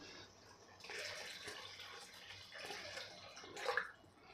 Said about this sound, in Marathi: पाणी घालताना आपल्याला गरमच पाणी घालायचं आहे